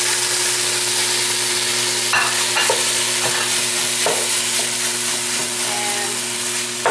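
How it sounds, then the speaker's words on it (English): Sausages fry with eggplant in a pan, a loud continuous sizzle punctuated by several sharp scrapes and knocks of a utensil stirring close by, over a steady background hum. "I'm just going to add the sausages now."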